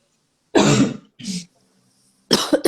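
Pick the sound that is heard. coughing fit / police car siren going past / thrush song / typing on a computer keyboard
coughing fit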